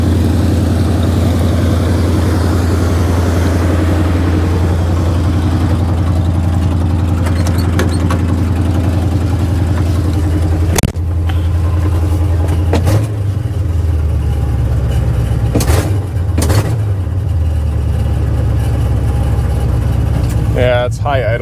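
A carbureted engine with a misadjusted choke runs at a steady high idle with a deep droning hum, close and continuous, broken by a few sharp clunks and brief dips in pitch; someone talks over it.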